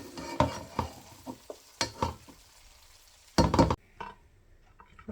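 Cooked sweet colourful mutanjan rice being stirred and mixed in a pot, with a few scraping strokes and soft clunks of the spoon, then a louder burst of scraping before quiet.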